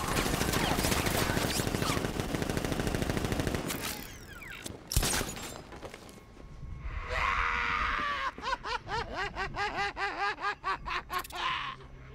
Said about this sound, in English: Guards! Open fire! Shoot everything!